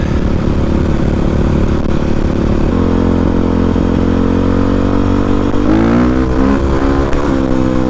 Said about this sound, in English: That was like a quarter throttle blip